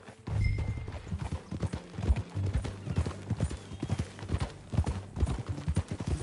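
Horse hooves clip-clop in Red Dead Redemption, a steady, close rhythm of hoofbeats going on the whole time with a faint whinny, while voices talk quietly beneath.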